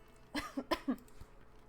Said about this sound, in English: the more I talk, the more my cough tries to come out.